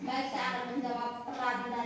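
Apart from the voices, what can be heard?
None of the usual background noises is heard.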